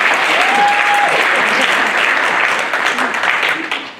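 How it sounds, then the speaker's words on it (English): Audience applause for Isla Smith at a BMX event, a dense steady wash of clapping lasting several seconds, with a brief whistle-like tone near the start and a slight fade at the end. "Round of applause for Isla Smith."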